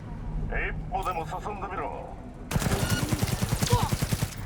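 Smart weapon gunfire in Cyberpunk 2077: a voice talks over a quiet scene, then a loud rapid burst of automatic shots with a rhythmic, evenly spaced cadence takes over for the final two seconds.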